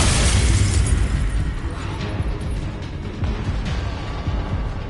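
A Confringo fire spell blasting in the Hogwarts Legacy video game, a loud, dense explosive roar that hits at once and rumbles on through the whole stretch, with no voices over it.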